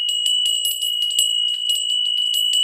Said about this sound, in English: Now this is the official opening bell